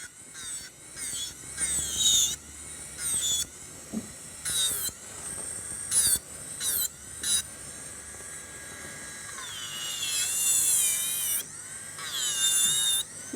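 A small electric nail file drill grinds on a fingernail, whining in short on-off bursts with a shifting pitch, close and fairly loud, ending in a longer continuous run.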